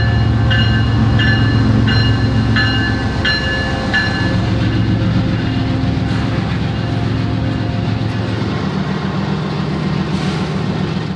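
A freight train rolls along rails in Mexico, a loud steady rumble with rhythmic clacking over the joints and a tonal squeal or horn-like ringing during the first few seconds.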